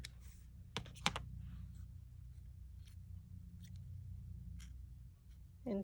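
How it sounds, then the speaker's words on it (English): Scissors cut into a small paper flower template, giving a few crisp, quiet snips and clicks spaced over a soft background hum, close to the listener. "So I'm just going around and cutting a tiny bit into"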